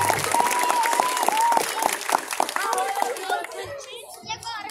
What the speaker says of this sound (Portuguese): palmas para o Jonathan Silva